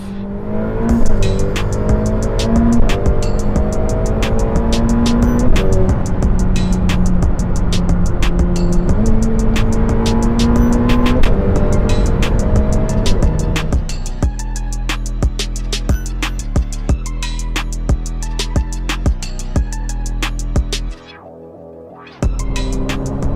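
Ferrari F8 Tributo sports car heard from inside while driving hard, the engine rising through several gears with sharp shifts, then settling into a lower rumble with clicks and a brief drop near the end.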